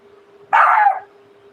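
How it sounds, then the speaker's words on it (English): One sharp, slightly drawn-out bark from a small female dog, close by and distinct over a quiet background with a low steady hum. "She's hiding behind me, barking at the dog."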